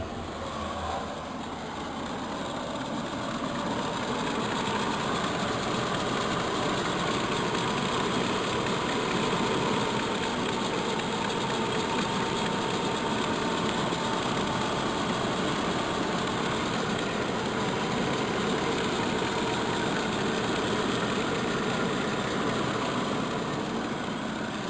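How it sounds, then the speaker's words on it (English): A Small Block Chevrolet V8 idles steadily just after a new water pump has been fitted, a constant close rumble with an even hum that stays unchanged throughout, with no talk. "we can now start the engine and make sure we got no leaks"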